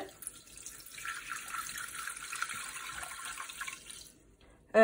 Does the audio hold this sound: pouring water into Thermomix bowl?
yes